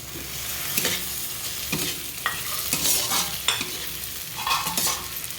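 Fenugreek leaves fry in oil in a pan for an egg fry, a close steady sizzle broken by repeated scraping stirs and spatula knocks, with no talking.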